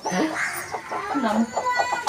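A native country hen clucks close by in a quick series of short, throaty notes, a brief burst of farmyard chatter.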